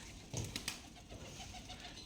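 Rajshahi Giribaj pigeons give a short burst of low, throaty coos near the start, then softer murmuring. The sound is fairly faint and close, with no talking.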